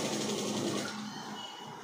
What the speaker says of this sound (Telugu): దీన్ని ఫినిషింగ్ స్టిచ్ వేసేస్తాం.